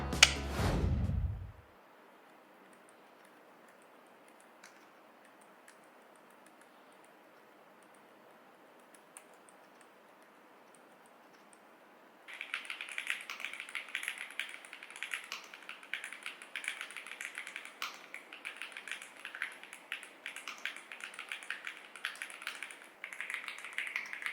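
After a brief low thump and a stretch of near silence, rapid, continuous clicky keystrokes on a computer keyboard begin and keep going steadily at close range.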